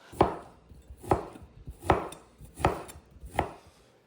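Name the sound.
knife chopping smoky bacon crosswise into lardons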